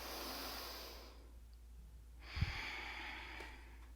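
Slow, soft breathing during a gentle vinyasa yoga flow, a long exhale fading out and a quieter inhale returning over faint room hum, close but low in level.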